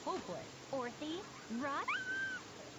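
A cat meows and yowls in the Tales of Berseria video game, several short pitch-bending cries in quick succession and then a longer drawn-out wail, close and clear against a quiet game background.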